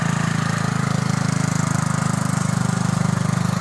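A small tractor engine runs steadily after its carburettor float chamber was cleaned, a close, loud and even rapid chugging throb with no talk.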